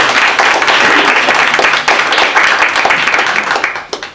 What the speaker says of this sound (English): we have an opportunity to applaud, so I think we should do it.